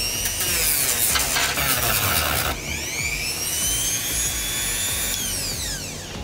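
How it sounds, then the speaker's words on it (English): A handheld power sander grinds down foam faux-leather pouches with a loud, close, continuous whine and rasp. The pitch rises and sweeps as the tool's load changes, and no one speaks. "Alright, got them sanded down."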